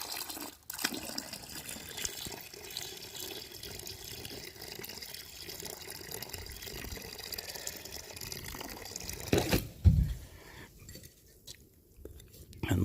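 Water pours and splashes into a basin dug around an elderberry plant outdoors, a continuous gurgling rush that swells and then cuts off near the end, with some voice present.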